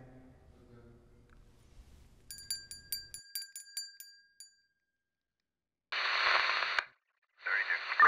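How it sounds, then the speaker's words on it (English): A small hand bell rings several times in a quick series of clear chiming strikes, followed by loud bursts of noise; a low voice murmurs faintly at the start. "I have this bell with me. When I ring it, there's going to be a moment of silence"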